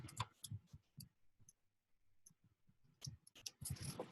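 Quiet, scattered keyboard clicks come in short bursts as a search query is typed into Google, with brief pauses between groups of keystrokes and no talking.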